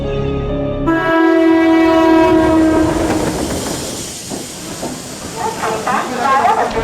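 A train at Borivali railway station sounds a loud horn, then rumbles and clatters past with hissing brakes and rhythmic wheel clacks, close and dominant throughout.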